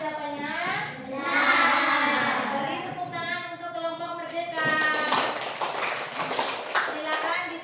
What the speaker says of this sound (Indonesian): Beri tepuk tangan untuk kelompok merdeka.